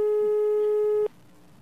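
A steady telephone line tone holds for about a second while a call is placed, then cuts off abruptly to faint line hiss.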